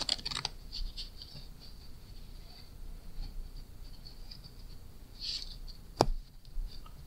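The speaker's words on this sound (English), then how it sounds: "It is a full deck shuffle that is a real shuffle, but then is nullified by a strip out or a push through move." A full deck of playing cards being shuffled and stripped out: soft riffling and scraping textures close by, with a sharp snap near the end, in a quiet room with no talk.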